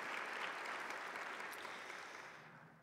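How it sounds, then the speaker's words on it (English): An audience at a presentation claps in a brief, fairly quiet burst of applause that gradually fades out over a few seconds. "Just give them a hand."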